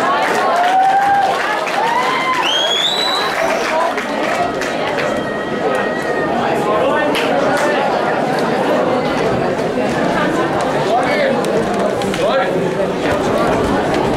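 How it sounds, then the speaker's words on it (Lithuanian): A school crowd greets class 3F coming on stage, clapping and chattering under loud voices, with whistles or cheers rising above the crowd noise early on. "Pasitikite plojimais 3-ąją F klasę"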